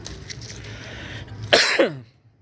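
A single sharp cough bursts out near the end, loud and close, with a raspy tail, following a stretch of low background murmur while tending a fruiting red crystal guava tree.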